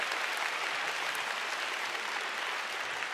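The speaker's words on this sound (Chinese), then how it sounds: "让我们用热烈的掌声恭迎总统莅临。" Audience applause welcoming the president at a presidential office concert, a dense, steady wash of clapping from a large crowd that holds throughout.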